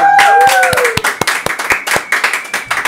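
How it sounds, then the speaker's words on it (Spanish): Applause greeting a Peruvian artist as he is introduced, scattered close hand claps in a fairly loud burst that thins into uneven individual claps toward the end, with voices faintly behind. "Con ustedes, Cale, un fuerte aplauso."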